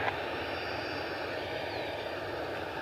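A Cessna Citation jet on a medevac flight takes off, heard as a steady broadband engine roar with a thin whine, loud and continuous throughout, with no talk.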